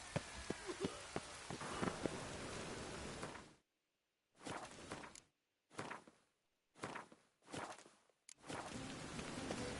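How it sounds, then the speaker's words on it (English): Steady rain falling in the video game The Witcher 3, a dense hiss of drops on surfaces broken by several abrupt cuts to silence, with faint footsteps mixed into the downpour. "Rain again"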